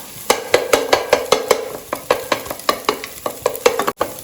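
Spatula stirring and scraping through frying eggs in a hot pan for idiyappam rice, a rapid, regular run of close, loud scrapes over a steady sizzle.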